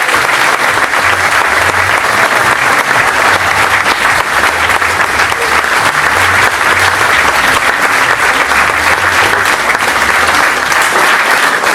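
Loud, sustained applause from a large theatre audience after a comedy play, dense and steady clapping throughout with no pauses.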